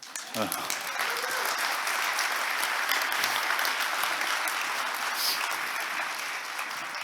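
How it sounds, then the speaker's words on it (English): A conference audience applauds throughout at a technology talk, a steady dense wash of clapping filling the hall at fairly even loudness, with a voice faintly audible within it. "That's when you clap, oh yeah."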